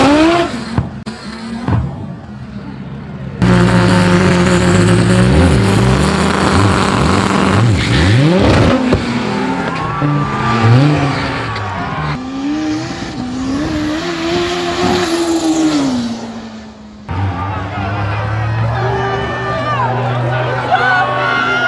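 An Audi performance car launches in a São Paulo drag race, its engine roaring up through rising gears with tire squeal and skids, loud and close, while a crowd murmurs and voices talk underneath.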